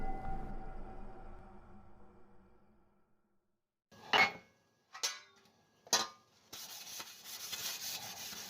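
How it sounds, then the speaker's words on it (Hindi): Late-night dishwashing: soft rubbing and scrubbing sounds, then three sharp separate clatters of utensils or pots after a pause, followed by renewed steady scrubbing. "इतनी रात गई, तुम बर्तन क्यों धो रही हो?"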